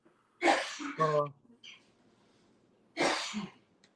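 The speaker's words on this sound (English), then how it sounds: "He got a little coughing fit." A man coughs in a few harsh, rough bursts separated by short pauses, close and fairly loud against a quiet background.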